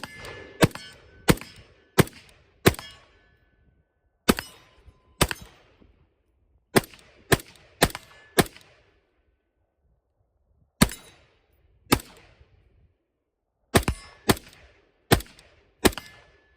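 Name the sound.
rifle firing 223 55 grain ammo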